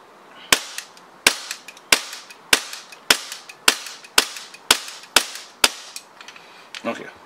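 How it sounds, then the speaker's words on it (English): An EMG Hudson propane-powered gas airsoft pistol firing off the rest of a magazine: about ten sharp, loud cracks at an even, unhurried pace, each with a short metallic ring, followed by a few softer handling clicks. "Let's finish the mag off to see if we're out of propane or not."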